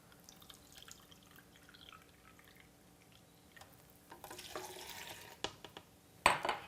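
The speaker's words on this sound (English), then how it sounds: "We want 3/4 of a cup of water." Water, three-quarters of a cup, poured into a blender with pitted medjool dates in a home kitchen, a bright splashing rush of about a second after quiet drips, followed by a couple of sharp knocks.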